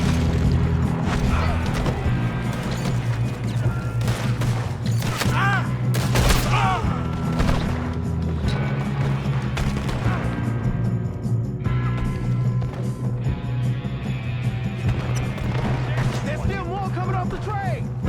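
Dense, loud gunfire from a train robbery shootout in Red Dead Redemption 2, with rapid overlapping shots and crashing impacts throughout, and voices calling out in between.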